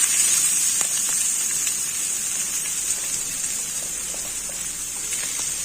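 Chopped large onion frying in heated oil in a pan for a mushroom masala semiya kichadi, a steady close sizzling hiss with faint crackles throughout, no voices.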